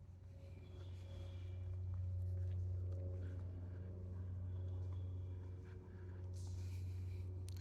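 A steady, deep engine rumble from a 2019 Hennessey Velociraptor 600 pickup truck idles continuously close by, with a strong low hum and slight swells in loudness.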